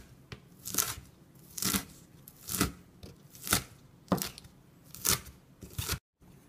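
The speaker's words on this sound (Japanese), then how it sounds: "細かく切ります。" Asparagus peels and woody stem ends, about 200 g, being finely chopped with a knife on a board: seven distinct, evenly spaced crisp cuts, close and fairly loud, with no talking.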